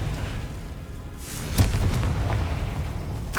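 A Confringo fire spell from Hogwarts Legacy on PS5 bursts into a sharp, booming explosion over a low rumbling game backdrop, followed by a short crackling tail and another hit at the end.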